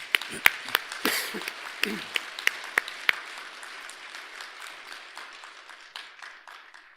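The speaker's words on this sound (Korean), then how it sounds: "큰 박수 부탁드립니다" An audience claps at a Buddhist academic award ceremony in Korea as a plaque is presented. A few sharp, distinct claps stand out at first, then the applause thins and fades away.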